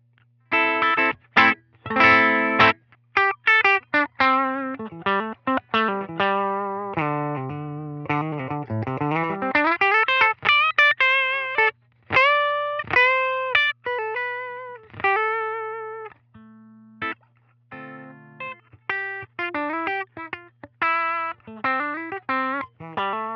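An electric guitar plays through a Line 6 Helix Litigator amp model with a Dumble-style tone and a 121 ribbon mic model, picking out clean, slightly driven single notes and short runs with quick decays and brief gaps between phrases.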